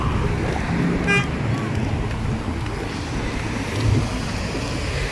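Cars pass over a one-way bridge in the small town of Tairua, a steady roadway rumble mixed with wind buffeting the microphone and a brief horn toot.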